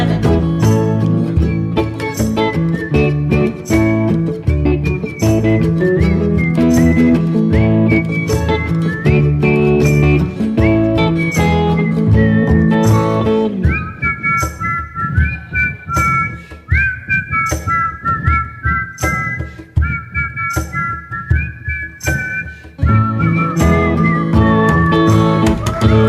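Several people whistle a song together at a live show, the bright melodic lines carrying a steady tune with a short break midway, fairly loud and with no talking.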